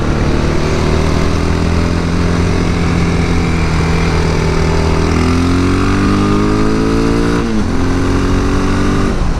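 A Honda XR650 or Suzuki DR650 dual-sport motorcycle ridden on new tires, its loud single-cylinder engine droning steadily close by, rising in pitch as it accelerates through the gears, with a brief dip near the end.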